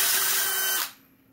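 A drill turning a Harbor Freight Warrior 1-inch stubby ship auger bit bores into wood with a loud whirring grind that winds down within a second, no talk.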